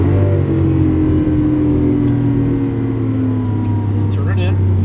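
A green 2012 Lamborghini Aventador on a race track holds a loud, steady engine drone under an instructor's coaching voice, with the note sliding gradually as the car powers out of a corner.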